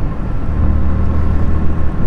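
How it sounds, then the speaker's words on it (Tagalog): A 2024 Suzuki Gixxer 150 motorcycle engine runs in a steady, close, low droning hum that holds an even level with no breaks. "So yan yung tunog ng makina."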